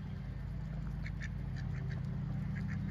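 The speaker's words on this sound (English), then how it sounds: "Little black ducks." Little black ducks quack in short repeated bursts close by, over a steady low rumble of background noise.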